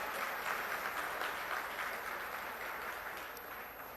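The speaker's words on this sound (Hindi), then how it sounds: "जोरदार तालियों में श्री अरविंद केजरीवाल साहब।" Dense crowd applause at an Aam Aadmi Party election campaign rally in Kurukshetra fills the whole stretch: steady, loud, and continuous, fading slightly toward the end.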